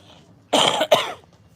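A single close, harsh cough from sinus drainage in two quick bursts, loud against an otherwise quiet hospital background.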